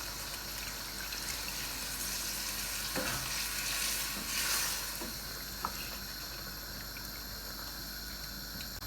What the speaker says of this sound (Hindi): अब हम इस पॉइंट पर 2 कप जो है वो पानी के ऐड कर देंगे इसके अंदर